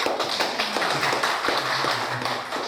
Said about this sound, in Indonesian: Tepuk tangan untuk Pak Jumno.